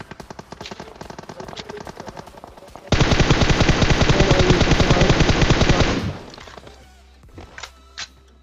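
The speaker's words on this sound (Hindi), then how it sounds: "मेरे को राइट से जो है गोलियाँ चलने की आवाज आती है" Video game gunfire crackles in rapid automatic bursts, with a distant patter of shots swelling into a loud, sustained close-range volley that cuts off, followed by a few scattered single shots.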